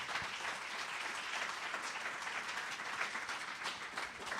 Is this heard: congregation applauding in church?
yes